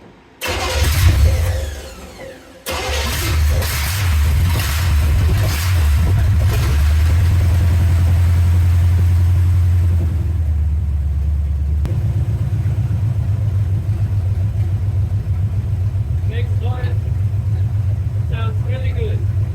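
A 1970 Chevy C10 pickup with a swapped engine and new headers cranks over and fires, then settles into a loud, steady, rumbling idle close by, with the exhaust note holding throughout.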